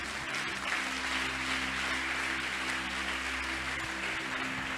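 A church congregation applauding steadily and fairly loudly, with a low sustained hum of music or organ running underneath.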